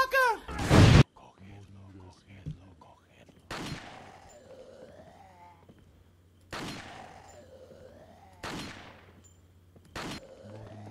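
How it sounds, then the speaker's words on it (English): An upgraded shotgun fires in a video game, with three heavy blasts spaced a few seconds apart, each ringing out and decaying, after a brief loud burst at the start. "give me my shotgun. I didn't upgrade this shit for nothing."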